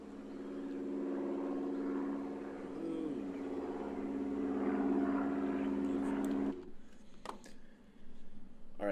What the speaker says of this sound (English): you guys can hear the sound of a plane flying.